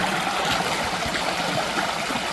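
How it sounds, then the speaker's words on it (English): A tiny waterfall on a hiking trail in Shawnee State Park, Ohio, sends up a steady, fairly close rush of splashing, trickling water that holds level all the way through, with no voices. "Here's a waterfall. It's a tiny one, but it's a waterfall nonetheless."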